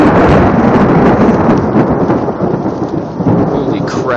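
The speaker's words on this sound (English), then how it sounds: "Lightning just hit a pole, like, right there." Thunder rolling during a fierce storm caught by cyclists out on a hill road, a loud, continuous rumble with rain hiss that fills the whole stretch, close and heavy throughout.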